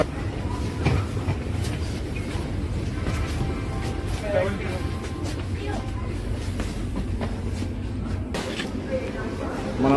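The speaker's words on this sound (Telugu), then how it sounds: "మన ట్రైన్ అయితే వచ్చింది, వందే భారత్ ఎక్స్ప్రెస్ వచ్చింది." A Vande Bharat Express train at a station platform, a steady low rumble and rolling clatter of the arriving train continuing throughout, with people talking over it.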